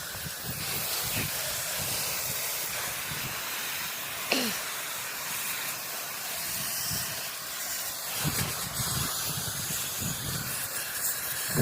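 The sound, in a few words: spraying Fast 5 Solutions Pro Glow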